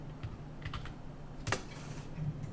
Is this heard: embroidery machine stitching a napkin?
no